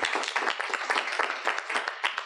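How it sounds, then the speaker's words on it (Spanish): An audience at a university panel on water-saving technology gives a round of applause, with brisk, even clapping from many hands heard close throughout. "Un fuerte aplauso, por favor."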